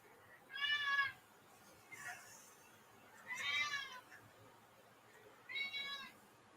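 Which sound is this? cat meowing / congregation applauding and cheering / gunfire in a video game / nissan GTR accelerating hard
cat meowing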